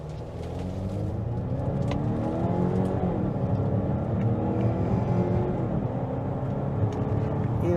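A 2023 Volvo XC90 B6 SUV pulls away from a standstill up to about 55 mph, its engine note rising steadily and loudly with a continuous low drone and climbing harmonics, heard from inside the cabin with no talking.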